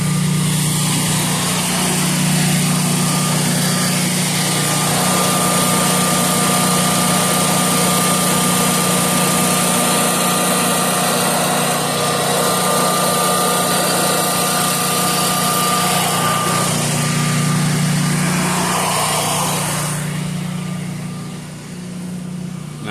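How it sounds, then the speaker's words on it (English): A 24 kW standby generator engine runs at a steady, loud, close drone with a constant whining hum, then winds down and fades near the end. "So now that I put that fuse back in there, the generator should start turning off,"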